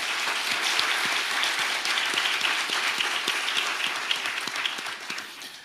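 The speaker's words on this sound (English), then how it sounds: "I would like everyone to join me in giving this panel a round of applause" Steady applause from a meeting audience for a panel, an even, moderately distant wash of many hands clapping throughout, tapering slightly at the close.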